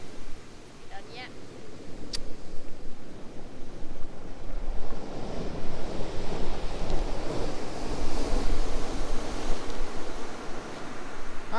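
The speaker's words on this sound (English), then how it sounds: "That's some big waves." Big ocean waves roll and crash on Kilnsea beach on the UK east coast, a continuous roaring wash of surf with gusty wind buffeting the microphone, growing louder toward the end.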